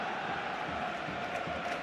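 A football stadium crowd roars in reaction to a referee's booking in a Barcelona versus Chelsea Champions League semi-final, a brief dense wash of distant voices at steady loudness.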